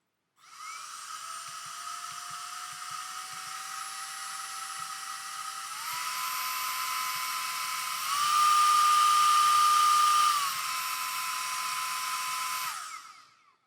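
MECO Eleverde CA3 air blower turbo fan running up to max speed: a loud, steady, high turbine whine that steps up in pitch twice, eases back down, then cuts off, with no talking.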